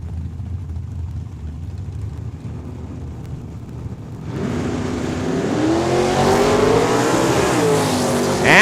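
Drag racing cars, including a supercharged Corvette, launch off the starting line at Saskatchewan International Raceway, a loud engine roar suddenly swelling midway and building with revving and tire noise, close and dominant.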